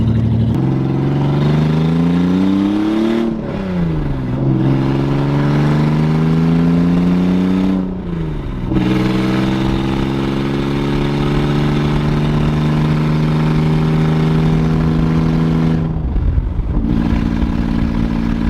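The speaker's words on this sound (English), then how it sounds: "you just hear a vet just idling. That's what this thing sounds like right now." A Nissan Z with a brand-new clutch from a manual swap runs steadily close by, rising in pitch through several short revs that drop back to a lumpy, throaty idle, with no talking.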